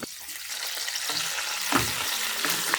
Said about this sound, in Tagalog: Iprito lang natin